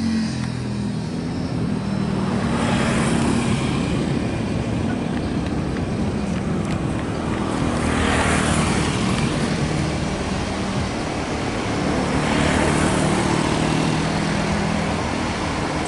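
A CIT inspection train running on the KCJB high-speed rail line near Tegaluar, heading toward Halim on a curving climb, gives a steady loud rumble with wind buffeting and slow swells, with no one talking.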